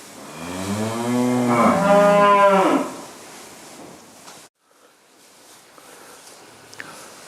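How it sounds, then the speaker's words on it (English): A heifer in a farm yard lets out one long, deep moo lasting about two seconds, fairly close and clear, followed by quiet yard ambience with faint distant stirring. "you can see the cows I was in are just over the pennage from here"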